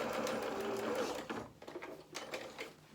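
Sewing machine stitching a straight seam through fabric, then reversing at the end; a steady motor whir runs for about a second and a half before breaking into shorter, uneven bursts of stitching, close and fairly quiet.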